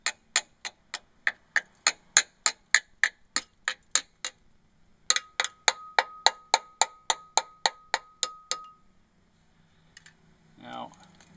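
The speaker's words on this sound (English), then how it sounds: "so we're just going to tap along here. This is, by the way, just a small little center punch." A small center punch taps lightly along the steel frame of a 2001 Brooks Rodeo bicycle, a close run of evenly spaced metallic ticks in two bursts, one briefly ringing, then a faint voice at the end.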